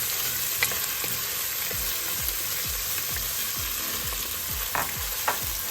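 Onions, green chili and curry leaves fry in a pan over medium heat, a steady close sizzle with soft stirring scrapes repeating throughout.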